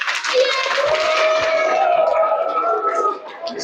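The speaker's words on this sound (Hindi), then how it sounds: "चलो बजाओ, ताली बजाओ।" At a school New Year celebration, children clap their hands in a scattered burst while young voices and chatter carry over the top.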